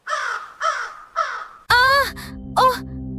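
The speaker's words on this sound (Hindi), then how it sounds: "तभी एक कौवा आकर उसके कंधे पर बैठा" A crow caws three times in close succession, followed by louder, harsher drawn-out calls over a low droning backdrop, set within a spooky horror-story soundscape.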